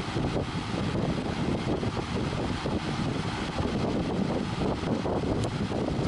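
A Lakewood HV-18 electric fan runs on high in a garage, making a steady, close, broadband whoosh of rushing air with a faint mechanical rumble beneath and no speech.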